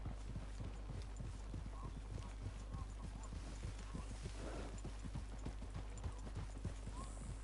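Horses walking in Red Dead Redemption 2, their hooves clip-clopping in a steady, close rhythm over a constant low hum, with an occasional faint snort or whinny and no talking.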